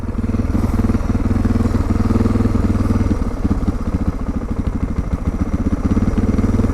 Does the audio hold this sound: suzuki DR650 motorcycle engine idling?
yes